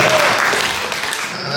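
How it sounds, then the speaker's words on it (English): Audience applause at a stand-up comedy show in a theater in Novato, a short dense burst of clapping from a crowd that tapers off. "That's the most applause Hayward has ever gotten in its existence."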